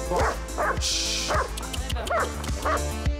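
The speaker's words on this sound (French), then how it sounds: "Un berger allemand sans muselière à proximité d'enfants." A dog in a children's playground gives about six sharp, close barks and yips in an uneven rhythm, with faint background voices.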